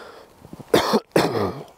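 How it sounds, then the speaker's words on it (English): Two sharp, close coughs in quick succession, with a brief pause between them, against quiet background. "Excuse me for the coughing"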